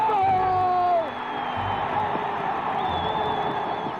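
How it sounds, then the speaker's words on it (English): A 1960 Winter Olympics ice hockey crowd roaring after a US goal, a dense, loud sustained cheer with whoops and whistles, steady throughout, with a voice briefly audible at the start. "the crowd went just absolutely crazy"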